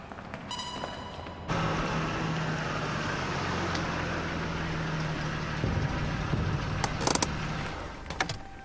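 A car engine runs steadily while driving, a continuous low hum heard alone with no voices, broken near the end by a few brief clicks and rattles.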